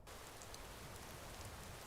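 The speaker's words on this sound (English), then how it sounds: "At least the rain provides some cover." In the video game Skyrim, rain falls as a steady, even hiss of drops with no break across the short stretch, faint and alone with no voices.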